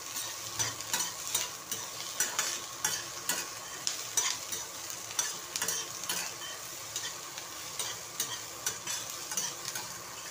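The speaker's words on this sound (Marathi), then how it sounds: "कांदा ब्राऊन कलर येईपर्यंत भाजायचा." Onions frying in a pan for Indian dhaba-style paneer bhaji, with steady sizzling under repeated scraping clicks of a spoon stirring against the pan; no talk.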